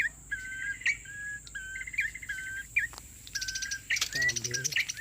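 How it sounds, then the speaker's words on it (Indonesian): Wild red-headed coki birds chirping in rainy outdoor surroundings, with repeated short whistled notes and trills close by, layered over a steady insect buzz. "Ini burungnya burung koki guys, 1 ekor pendapatan pertama."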